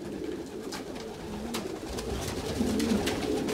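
Pigeons cooing at a loft, soft repeated low coos from several birds close by over a steady background of rustling and ambient noise.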